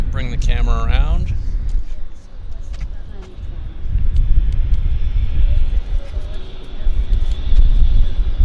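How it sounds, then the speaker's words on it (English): WestJet airliner landing at Vancouver Airport: a steady low rumble of jet engines rolls on throughout, swelling and fading in broad waves, heard from a spotting position outdoors with ambient noise around it. "we got a WestJet landing"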